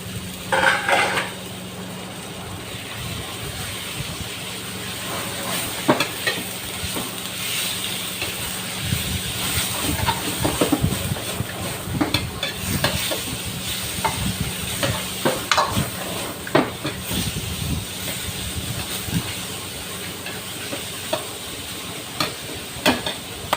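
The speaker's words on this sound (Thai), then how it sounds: "เนื้อจระเกะครับพี่น้องใส่ลงไป" Crocodile meat being stir-fried in a hot pan for a spicy Thai pad cha, with a steady sizzle and hiss under repeated metal spatula scrapes and clanks against the pan.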